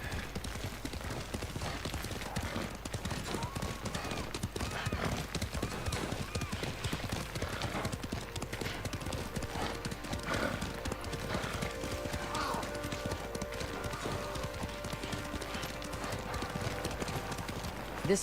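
Horses' hooves clatter in a rapid, continuous galloping rhythm in the video game Ghost of Tsushima, beneath steady background noise, with voices talking over it throughout.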